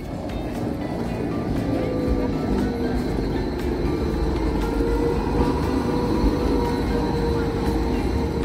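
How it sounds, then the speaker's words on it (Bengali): Steady rumble and rattle of a Swiss train riding back to Zermatt, heard from inside the carriage, continuous and fairly loud throughout. "এই ট্রেনে করে আমরা জার্মাট ফিরে যাচ্ছি,"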